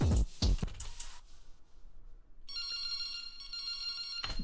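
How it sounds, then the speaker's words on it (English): In a track transition, a bright electronic cell-phone ring sounds as a steady, warbling tone for about two seconds, mixed with bass plucks and other music. "you get this like cell phone ringing, bass plucky thingy"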